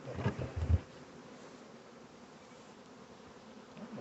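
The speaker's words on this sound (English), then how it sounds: "There's a bunch of bees in there." A steady honeybee buzz from an open hive hums low throughout, with a few louder thumps and rustles near the start, no voices.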